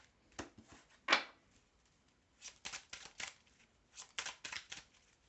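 A deck of cards being shuffled close up in a quiet room, with several soft riffling bursts of rapid flicks separated by pauses, faint and dry.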